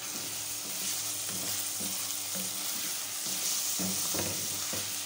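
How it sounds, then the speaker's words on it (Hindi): Ginger garlic paste fries in a pan for aloo qeema, a continuous crackling sizzle with intermittent scraping stirs and soft clacks of a spoon, steady and close with no talking. "2 चम्मच भर के अदरक लहसुन का पेस्ट डाल देंगे। इसको फ्राई कर लेंगे अच्छे से।"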